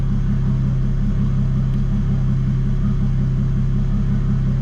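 A big turbo Toyota Supra engine with a custom fuel system runs with a steady, throbbing low rumble, close and constant for several seconds without talk.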